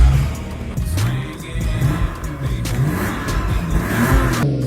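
A Lexus GS300's naturally aspirated six-cylinder, the same engine used in the non-turbo Toyota Supra, revs loudly and close, its note rising and falling through several throttle blips with no talk over it.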